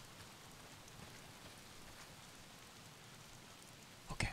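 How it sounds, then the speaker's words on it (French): Steady rainfall in the video game Days Gone, a soft continuous hiss of falling drops, faint and even throughout, with a brief louder knock near the end. "manquait plus que la pluie"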